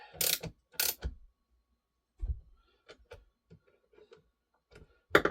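A scrench turns the chain tensioner on an Echo CS-310 chainsaw: two sharp knocks open, then small scattered metallic clicks and ratcheting ticks follow, close and fairly quiet.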